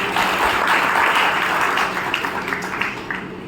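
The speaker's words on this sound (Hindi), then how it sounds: "अपनी खुशी की ताली आप पे बज जाएगा।" Audience clapping at a spiritual gathering in a hall, a dense, steady wash of many hands that holds loud for a few seconds and then eases slightly toward the end.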